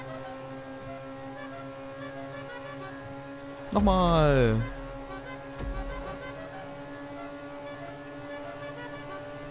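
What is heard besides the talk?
boat horn honking in video game GTA Online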